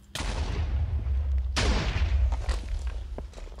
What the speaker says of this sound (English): And secondary explosions.